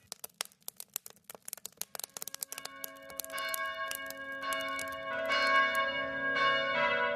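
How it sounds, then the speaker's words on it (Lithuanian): Church bells ring on Christmas morning, starting with rapid close strikes and building into a full, sustained peal of overlapping tones. "Skamba varpai"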